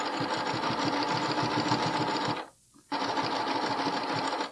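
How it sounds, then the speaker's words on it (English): Sewing machine stitching elastic along the edge of a bralette, a loud, fast, steady mechanical whir with rapid needle rhythm, briefly stopping for a moment before resuming. "I'm stitching kind of right on the edge, making sure that I am stitching that elastic down"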